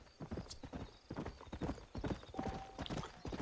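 Steady clip-clop of a horse's hooves trotting along in the video game Red Dead Redemption, in a quick, even rhythm, close and fairly loud with no talking.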